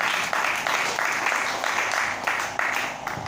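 A church congregation applauding in worship, many hands clapping together in a steady rolling wave that stays even and fairly loud for over three seconds with no pause.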